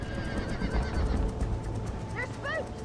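Horses whinny loudly during a cattle stampede in the Red Dead Redemption video game, sharp rising neighs near the end over a rumbling bed of hooves and lowing, with game voices talking underneath.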